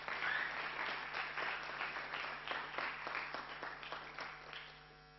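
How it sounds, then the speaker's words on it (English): Audience applause at a consulting case competition, steady clapping from a seated crowd that stays even for several seconds and then gradually fades toward the end, with no voices over it. "But big applause for yourself,"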